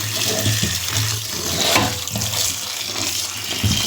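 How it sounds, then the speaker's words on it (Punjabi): Vegetables are washed under a tap left fully open, giving a steady, loud rush of running water that splashes without pause and with no voices. "ਵਧੀਆ ਖੁੱਲਾ ਪਾਣੀ ਛੱਡ ਕੇ ਇਹਨਾਂ ਨੂੰ ਵਾਸ਼ ਕਰਦੇ ਆਂ"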